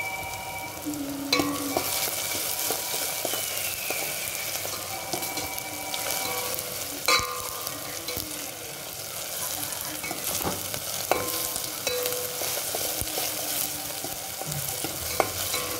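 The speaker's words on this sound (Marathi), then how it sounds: "टोमॅटो कांदा चांगला तळलेला आहे" Tomato and onion frying in a pan for a dry potato dish, a steady sizzle with repeated spatula scrapes and clinks against the pan, some louder knocks, no voices.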